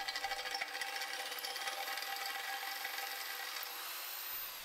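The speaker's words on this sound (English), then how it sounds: "We can start cutting the intersections of the handles on the metal plate first." A fine saw blade rasps rapidly back and forth through a metal plate, cutting a steering wheel shape, a steady scratchy grinding with a thin high whine, close up.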